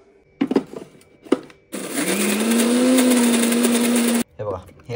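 A mixer grinder whirs loudly for about two and a half seconds, grinding soaked moong dal into a fine paste, with brief clatter and handling before and after.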